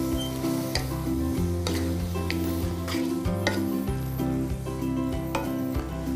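Pasta with tomato sauce being stirred over drained pasta, a steady sizzling bed broken by regular clicking taps of the utensil against the pot, with no talking.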